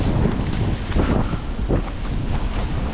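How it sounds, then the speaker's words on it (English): Strong outdoor wind buffeting the microphone, producing a loud, continuous low rumble with gusty swells and no talking. "Oh, that wind's really strong."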